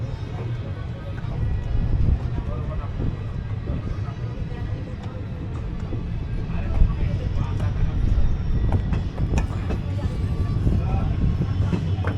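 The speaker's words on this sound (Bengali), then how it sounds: "আমাদের ট্রেন বেরিয়ে যাচ্ছে" Balurghat–Siliguri Intercity Express pulling out of the station, a low rolling rumble with scattered clanks and clatter building slightly, amid background station noise.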